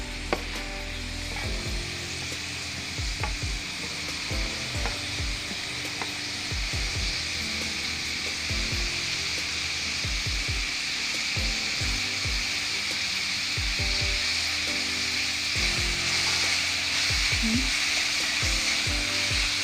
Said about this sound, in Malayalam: എല്ലാം കൂടെ മിക്സ് ചെയ്ത് വഴറ്റിയെടുക്കുക